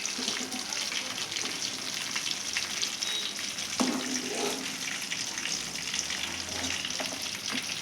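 Stuffed eggplant curry ingredients frying in a pan give a steady, close sizzle with faint tap-water sounds in the background and no talking.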